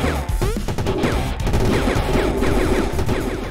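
Gunfire from shooting in the video game Turbo Leaper: rapid repeated shots and crashing impacts over busy game music and effects, loud and continuous, without speech.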